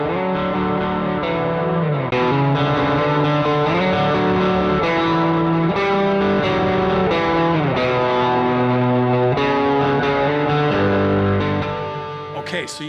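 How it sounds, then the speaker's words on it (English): An electric guitar plays chords through overdrive and boost pedals, a thick, distorted, sustained tone throughout that fades at the end. "Let's listen first to the boost after overdrive example"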